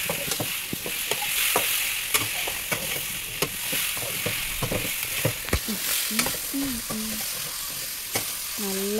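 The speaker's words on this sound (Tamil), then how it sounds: "இப்போ dark soya sauce, then mix it well." Food frying in a pan with dark soy sauce, being stirred: steady sizzling hiss with frequent sharp scraping clinks of a utensil against the pan, close and loud, and a brief voice near the end.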